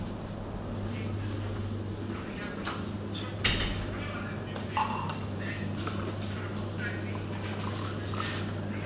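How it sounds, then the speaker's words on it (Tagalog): Water poured into a pan for cooking cabbage for a sautéed cabbage and sardines lunch, a soft, low trickle under a steady background hum with a couple of brief clunks. "Kuha lang tayo ng kunting tubig guys para pangluto yung repolyo."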